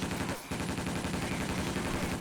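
Rapid gunfire in a snowstorm capture-the-flag video game match, a loud dense stream of automatic shots with a brief break early on, then continuing steadily and close.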